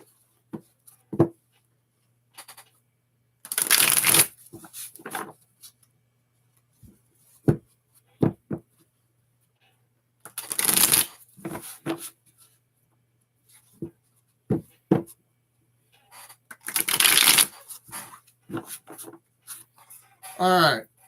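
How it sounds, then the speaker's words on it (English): Tarot cards are shuffled in three long riffling bursts, with scattered taps and handling noises between them, close up in a quiet room. "So I've been pretty much shuffling this whole time."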